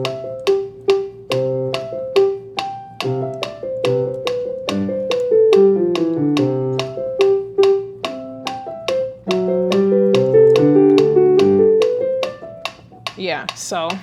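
Solo piano playing a melodic piece at tempo 144, with clearly separated notes and chords struck in a steady brisk pulse, close and clear, ending on a quicker run of notes.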